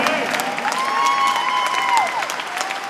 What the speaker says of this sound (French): J'aimerais ça qu'on lui donne une bonne main d'applaudissement.